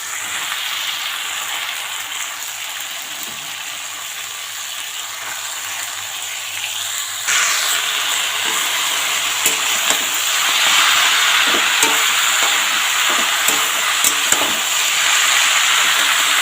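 Spinach hits hot fried spice masala in a pan, raising a loud, steady sizzle and hiss that intensifies as the leaves go in, with occasional clinks of stirring.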